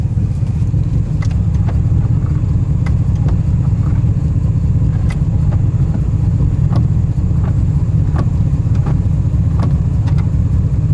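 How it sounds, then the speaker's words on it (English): A 1974 big-block Corvette Stingray engine idles steadily with a low, constant rumble, close and continuous, with faint clicks and some wind noise over it. "Car sounds good."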